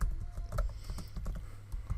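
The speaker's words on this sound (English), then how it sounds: "I feel like I'm typing slowly today." Fingers tap on a computer keyboard, giving a quick, uneven patter of close, soft keystrokes with no voice over them.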